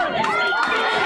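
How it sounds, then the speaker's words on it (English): Redskins football crowd cheering at the Colliers Shield grand final: a brief, loud roar of many voices close by, mingled with shouts and a speaking voice. "The Redskins crowd actually come alive"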